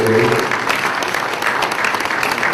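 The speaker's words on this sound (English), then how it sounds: "Round of applause for me." An audience at a roadmap presentation in Abuja breaks into loud, close applause, many hands clapping in a busy, uneven burst, with a brief voice at the very start.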